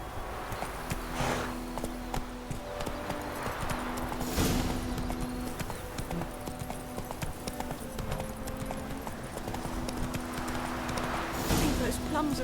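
Roach, the horse in The Witcher 3, moves at pace with a continuous run of hoofbeats over game ambience and some voice activity.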